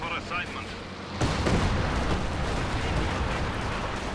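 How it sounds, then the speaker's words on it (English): A Panzerwerfer rocket artillery barrage in Company of Heroes 2 hits with a sharp onset, then a dense, continuous roar of rumbling explosions and crackling blasts. "I hear Panzerwerfer barrage."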